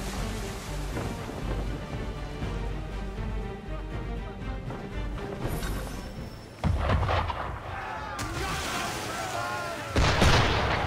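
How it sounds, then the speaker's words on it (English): Cannon fire aimed at a ship in the Assassin's Creed III game, heavy booms that erupt over rumbling background, with a loud blast near the middle and another close to the end. "Why is he shooting at us?"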